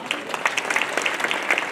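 An audience at the opening of a painting and sculpture biennial claps for the exhibiting artists, a short burst of scattered hand claps from a modest crowd, with some talk mixed in.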